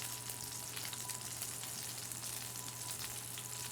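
Breaded chicken cutlets frying in oil in a pan, a soft, continuous crackling sizzle with fine popping, steady and fairly quiet.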